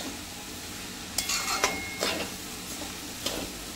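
Grated raw mango and sugar being stirred and sautéed in a pan, with a soft steady sizzle and several scraping stir strokes close by, no talking.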